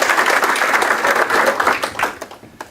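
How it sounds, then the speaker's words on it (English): An audience at a meeting gives its guests a short, lively round of applause, dense clapping from many hands that fades out within a few seconds. "A big round of applause for our guests."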